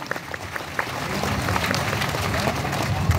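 An audience at a gathering claps for the owner of a tent from Hindaun, a dense, steady wash of applause that swells slightly and holds throughout, with faint voices mixed in.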